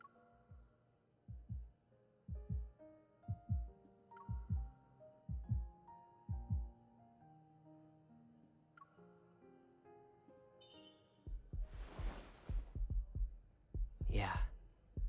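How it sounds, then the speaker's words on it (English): Heartbeats in the Love and Deepspace game's wedding event thump low and steady in soft double pulses. Louder rushing, breathy bursts come in near the end. "Now we're hearing our heartbeats."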